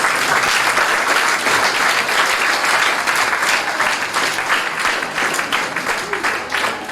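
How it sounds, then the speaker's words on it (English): Loud, continuous applause from a large audience at a school event honoring the Royal St. Vincent and the Grenadines Police Force, a thick even wash of clapping that eases slightly toward the end. "I want us to give the Royal St. Vincent and the Grenadines Police Force a round of applause for partnering with us."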